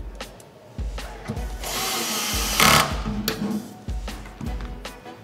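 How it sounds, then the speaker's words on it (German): A cordless screwdriver drives a screw to fix a mounting anchor for a GEOS enclosure, with a steady whirring burst around the middle, short bumps and handling knocks before and after, close and fairly loud with no talking. "Und wiederum mit einer Schraube und einem Akkuschrauber zu fixieren."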